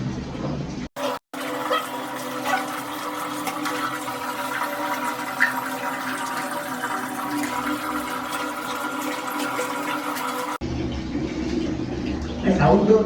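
Water poured and splashed over a dog being bathed outdoors at an apartment, a continuous rushing gush lasting about ten seconds, close and fairly loud, with a short pause near the start.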